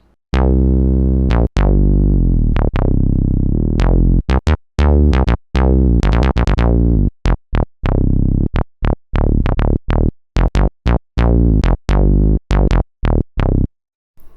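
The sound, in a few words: synthesizer bass preset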